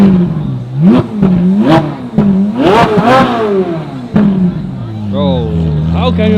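A Ferrari 458 Speciale Aperta V8 revs hard again and again at a large Ferrari gathering in Aarberg, its loud engine rising and falling in quick swells close by, with voices in the background.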